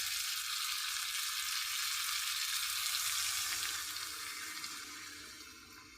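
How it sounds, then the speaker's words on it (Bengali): Water poured into a sizzling pan of potato and cauliflower masala for a rohu fish curry gives a steady, bright hiss of frying that holds level and then slowly softens, with no voices. "এখন আমি জল দিয়ে দেবো পরিমাণ মতো"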